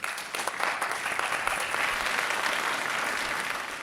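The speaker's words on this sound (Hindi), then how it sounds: "चलिए जोरदार तालियां आप सबके लिए" Audience at a talent show giving enthusiastic applause to the performers, a dense burst of clapping that holds steady and fades slightly toward the end.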